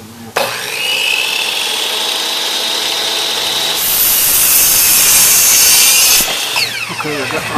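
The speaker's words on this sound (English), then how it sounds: "I'm going to have to cut me a 23 1/4 inch piece of 2x6 to mount my outlet on in the greenhouse." A power saw cuts a 2x6 wooden board, starting with a sharp motor whine that deepens into a louder, harsher bite as the blade passes through the wood, then spins down near the end, close and loud.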